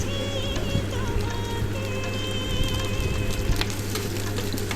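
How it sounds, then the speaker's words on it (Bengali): Chopped onions sizzle and crackle in hot oil in a pan, making a steady, close frying hiss with scattered pops and faint stirring. No one speaks. "দিয়ে দিলাম পেঁয়াজ কুচিগুলা তেলে দিয়ে লাড়তে হবে যেন পুড়ে না যায়"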